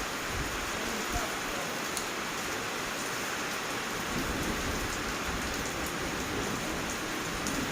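Steady, close rain pours across the whole stretch onto an elephant standing outdoors in a storm, with low thunder rumbling underneath and gusts of wind.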